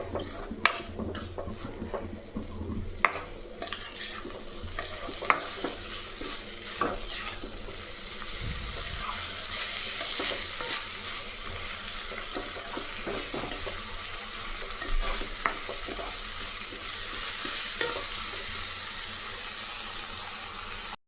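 Onions sautéing in a pan for onion chapati, a steady sizzle with repeated scraping and clinks of a spatula stirring against the metal, close and continuous throughout with no talking.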